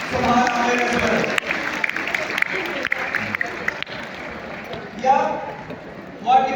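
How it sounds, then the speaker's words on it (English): Applause from an audience at the KIPS annual prize ceremony in Alhamra Hall, Lahore, honoring a live art competition winner; a continuous clatter of clapping with some sharp individual claps, with voices briefly rising near the end. "Please give a huge applause to Subhan Amir as well."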